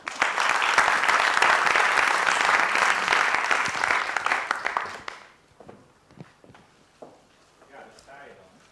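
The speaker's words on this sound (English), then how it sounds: "Please welcome him with a warm applause." Audience applause welcoming a deputy mayor on stage at a festival talk, a dense, steady burst of clapping for about five seconds that then stops abruptly, leaving sparse room noise and scattered movement.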